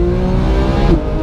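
A naturally aspirated Porsche 991 GT3 with a Sharkwerks exhaust holds a loud, steady, harmonically rich engine drone that swells slightly near the end, close and alone with no talk.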